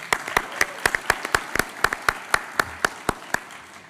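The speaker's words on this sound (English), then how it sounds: "So I just want to give them a round of applause." Applause for students at a community town hall on schools: a moderate wash of clapping with sharp, distinct individual claps standing out at a steady rhythm, slowly tapering, with no talk.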